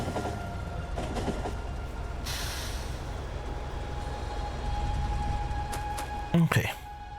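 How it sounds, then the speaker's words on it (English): Train ride in the video game Factorio, a steady low rolling rumble of wheels on rails running throughout, with brief clatter near the end and a voice talking over it. "Entertains me while I'm riding the train."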